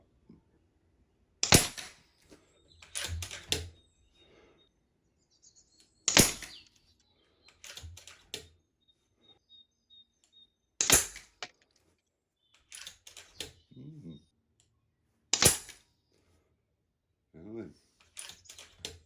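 An FX Panthera air rifle fires at targets: five or six sharp, close reports spaced a few seconds apart, each followed by a clacking cocking action, with short spoken remarks between the shots.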